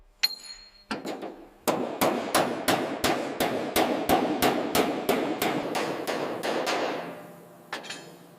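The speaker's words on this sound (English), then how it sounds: "Hammering out every dent by hand." Hand hammer beating dents out of a classic Mercedes steel body panel, about a dozen sharp metallic blows in a steady, even rhythm, close and loud, with brief pauses at the start and end.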